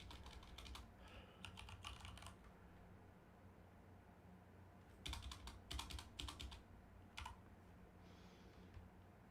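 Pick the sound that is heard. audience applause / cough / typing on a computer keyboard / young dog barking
typing on a computer keyboard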